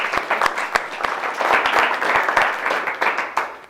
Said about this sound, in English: can I just give yourselves a little round of applause to kick this thing off